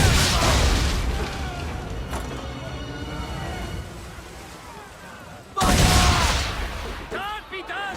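Ship cannons firing during a naval battle in Assassin's Creed 3, loud heavy booms with rumbling tails, one big blast bursting out near the end, while crew voices shout orders over the barrage.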